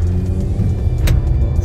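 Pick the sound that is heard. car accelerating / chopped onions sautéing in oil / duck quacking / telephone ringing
car accelerating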